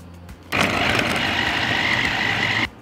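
An electric food chopper whirs loudly and steadily for about two seconds, mincing cut onion, then stops abruptly, with a brief quiet moment before it starts.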